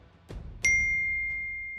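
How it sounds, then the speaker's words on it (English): A phone notification rings out once: a bright, clear ding preceded by a soft tap, then a long pure tone that slowly fades over a quiet background. "I just got a ding on my phone"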